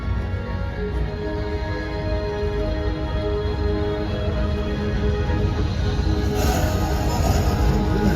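Walt Disney World Railroad train rolling along the track, a continuous loud rumble with steady wheel and carriage noise that brightens slightly toward the end.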